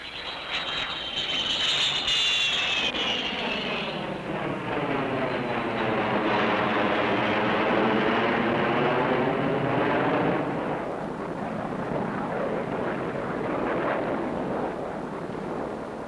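An airplane dives in a film scene, its engine roar building into a loud, sustained rush that sweeps in pitch and holds for many seconds, with a high whine at the start.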